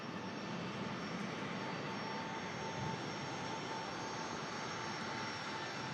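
An aircraft departing Manchester Airport gives a continuous, even jet-engine roar, steady and moderately loud throughout with no talking.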